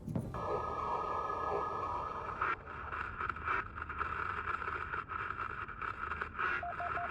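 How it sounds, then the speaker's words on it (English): A Morse code radio transmission in the video game Deliver Us Home, a rhythmic string of short electronic beeps amid radio static and scraping noise, faint and under a continuous hiss. "Oh, Morse code."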